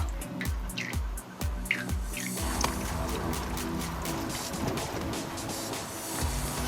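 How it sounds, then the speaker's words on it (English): Eggs, buttermilk and oil pour into dry cake ingredients: steady close wet trickling and dripping with a few splashy plops near the start, a continuous liquid flow, no voices. "then I begin to add in my wet ingredients. My eggs, buttermilk, and oil."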